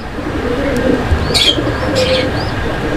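A male white Beauty Homer pigeon coos in a loft, with soft low cooing phrases and a few brief chirps over a busy background hum of other birds.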